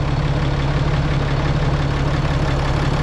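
A 2018 Ram 2500's 6.7-liter Cummins turbodiesel engine idles steadily and loudly, a deep, even rumble with a constant low hum and no other sounds.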